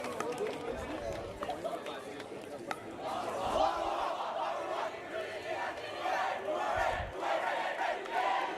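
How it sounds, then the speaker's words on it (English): Crowd cheering and shouting at the DUPR Collegiate National Championship pickleball finals in Atlanta, Georgia, a dense, steady roar of voices that swells louder midway and stays excited, with an announcer talking over it. "And the crowd is pumped."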